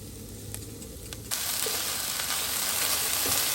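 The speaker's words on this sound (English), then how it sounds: "I'm just doing 500 grams of mince. I've got 1 onion and some garlic. I'm going to fry all that off" Half a kilo of mince with onion and garlic hits a hot pan at a campsite caravan; after a quiet start, a loud, steady sizzle bursts in and carries on close up, with no one talking.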